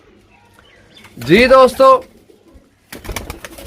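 Pigeons coo in a short burst of several soft, rolling calls, fairly close, among a flock kept for sale, followed by someone speaking.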